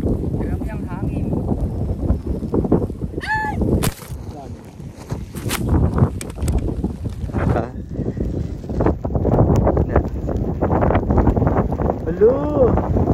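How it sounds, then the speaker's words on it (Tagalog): Strong wind buffets the microphone on a mountain trail during a hike up Mt. Sembrano, a steady broadband rush that runs the whole time with gusty surges and people talking nearby. "Grabe ang hangin."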